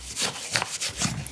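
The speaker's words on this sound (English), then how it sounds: "Now we're buffing it off." Fibreglass release wax is buffed off a mould by hand, giving quick, close rubbing strokes in an uneven back-and-forth rhythm.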